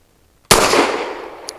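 A single sharp gunshot from a Fusion Firearms Ermox XP Pro pistol firing SIG Elite Defense 147 grain ammunition, loud and close, its report decaying over about a second with a faint click near the end.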